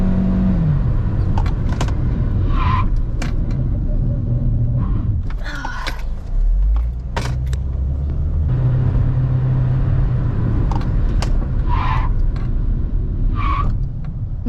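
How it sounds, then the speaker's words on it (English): A Toyota Corolla brakes hard from 60 mph, a loud steady road and engine rumble with tires locking up, shifting tone midway as the car slows, with no talk. "So we're out here in the Toyota Corolla trying to put the pedal to the metal,"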